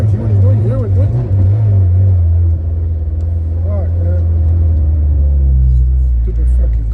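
A Honda EG sedan engine hums in a low, steady rumble that rises and falls slightly, with people talking over it throughout.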